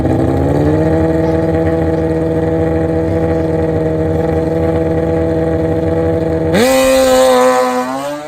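A nitrous-fed street-tire No Bar drag bike, Hayabusa or ZX14 class, holds a loud, steady high-rpm engine drone for several seconds before sharply pitching up as it launches, heard close and alone.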